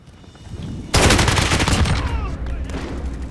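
CR56 AMAX assault rifle fire in Modern Warfare, a loud rapid automatic burst that starts suddenly and rattles on, followed by a few more shots close up.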